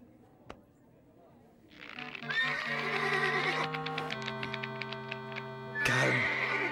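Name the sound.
horse neighing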